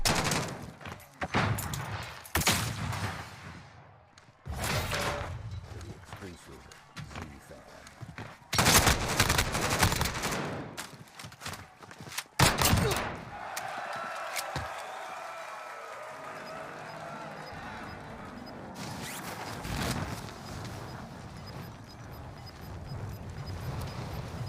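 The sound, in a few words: gunfire in the video game Call of Duty: Warzone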